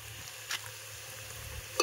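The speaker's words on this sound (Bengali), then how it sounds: "এই যে আলু কিন্তু খুব সুন্দর করে ভাজা হয়ে গেছে।" Potatoes fry in a pan with a soft, steady sizzle and a couple of brief clinks of a utensil, heard close and fairly quiet with no talking.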